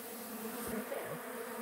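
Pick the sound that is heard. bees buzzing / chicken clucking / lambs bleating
bees buzzing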